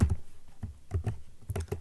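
Code being typed on a computer keyboard, with short clusters of close, soft key taps in an uneven rhythm and quiet pauses between bursts.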